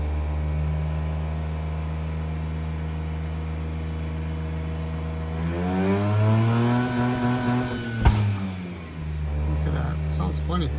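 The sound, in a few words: Mazda RX-8 engine revving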